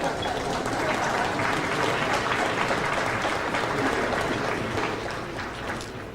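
Sustained audience applause at a show, a dense wash of many hands clapping that holds steady and then slowly fades; no one speaks over it.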